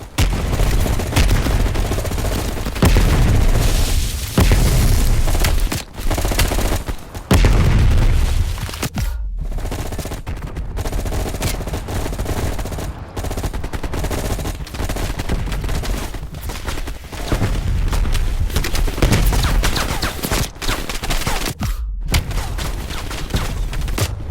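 Grenade launcher blasts and rapid gunfire from the Call of Duty: Black Ops Cold War video game, with loud continuous fusillades, booming explosions and brief pauses across a long, dense battle stretch.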